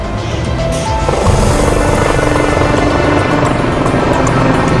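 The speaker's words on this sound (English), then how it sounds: "chopper 5, heading north at 39 degrees and climbing" Helicopter flying and climbing, a loud, steady rotor and engine drone that holds unbroken and fills the scene from start to finish.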